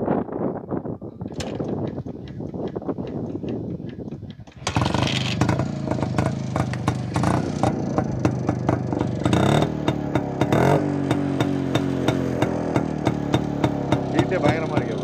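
A fully restored 1969 Jawa motorcycle with points ignition and original exhaust: a sputtering two-stroke idle, then the engine catches louder and revs in uneven bursts with a steady rapid putter, close and continuous.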